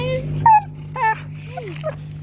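A dog on a nature walk whimpers and yips in short, high, wavering cries, several in a row up close, over a steady low background hum.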